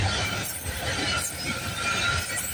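A freight train rolls steadily past at Bayview Rd, a loud continuous rumble with wheel noise and faint squealing, close and unbroken throughout.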